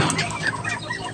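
Chickens clucking at feeding time, a brief close burst of overlapping clucks and fowl calls.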